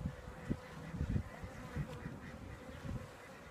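Honey bees drone around an open hive in spring with a low, continuous buzz, with small swells and several brief close passes, fairly faint and without talk.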